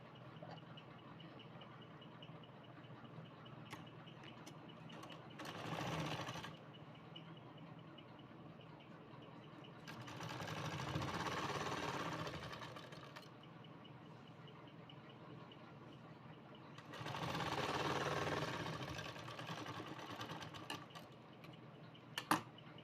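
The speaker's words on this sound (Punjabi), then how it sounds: "ਮੈਂ ਇੱਥੇ ਸਿਲਾਈ ਲਗਾਵਾਂਗੀ ਇਹਨੂੰ ਬਰਾਬਰ ਮਿਲਾ ਕੇ" Sewing machine stitching salwar fabric, running in three separate bursts of whirring several seconds long, separated by quiet gaps, heard fairly close in a quiet room with no talking.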